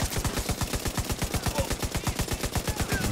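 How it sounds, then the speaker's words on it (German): Rapid automatic gunfire in the video game The Division 2, a loud continuous burst of evenly spaced shots, roughly eight per second, sustained for several seconds without a break. "Schieß auf jemand anderes, okay?"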